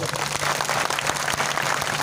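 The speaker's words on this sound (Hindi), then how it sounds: "आप उन तमाम आयोजक और नियोजन करने वाले लोगों के लिए जोरदार तालियां बजाओ" Loud, sustained crowd applause at a gathering honouring the tribal hero Tantya Bhil, thanking the event's organisers; dense clapping fills the whole stretch without a break.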